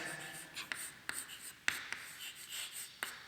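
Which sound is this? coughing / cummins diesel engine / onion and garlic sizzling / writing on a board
writing on a board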